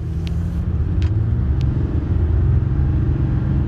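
A 2023 Ram 2500 pickup with 3.73 rear gears launches hard from a standstill, its engine giving a loud, steady low rumble and drone that holds throughout with no talking over it.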